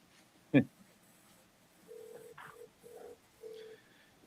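An iPhone dials out: after a single sharp click, a short series of soft, evenly spaced keypad tones beeps one after another in a quiet room.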